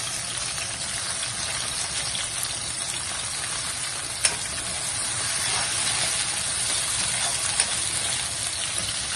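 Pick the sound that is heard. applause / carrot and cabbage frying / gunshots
carrot and cabbage frying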